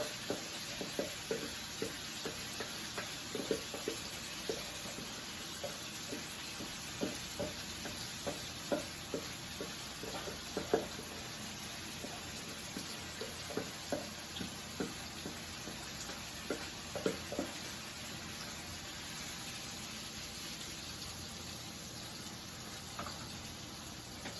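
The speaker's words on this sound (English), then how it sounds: "So while this is cooking, the shrimp is cooking" Shrimp with green seasoning cook in a hot pan, giving a steady, close sizzle broken by regular stirring scrapes and clacks, with no talking.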